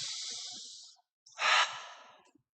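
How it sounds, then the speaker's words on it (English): A person takes one slow, deep breath: a long airy inhale, a short pause, then a louder, fuller exhale, close and alone. "let's breathe."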